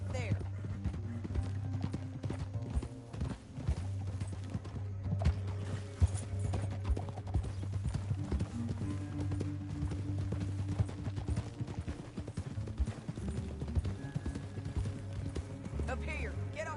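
Horse hooves clip-clopping on a trail in the video game Red Dead Redemption, a steady rhythmic run of hoof beats over a low hum and ambient game score, with characters talking throughout.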